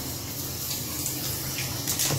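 Water runs from the brand-new shower in a refurbished Pop Century Resort hotel room bathroom, a steady close hiss of spray hitting the surface without any talk.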